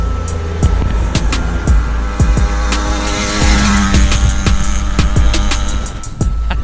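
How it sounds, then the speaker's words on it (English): A custom motorized gas bike races past fast, its small engine buzzing loud and steady for several seconds while sharp tire squeals and skids break through repeatedly. "That Gasbike is freaking fast."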